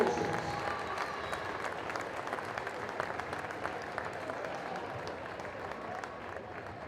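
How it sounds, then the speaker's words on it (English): Steady applause from an indoor crowd at a school basketball event honoring Hall of Fame inductees, a dense wash of clapping that fades slowly, fairly loud and with no speech over it. "One more round of applause"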